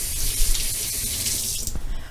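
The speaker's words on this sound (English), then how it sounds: "Washing hands is crucial here to not get everything dirty with beets" Water from a kitchen tap runs steadily as hands are rinsed clean of beet juice, a close continuous splashing hiss with small uneven splatters.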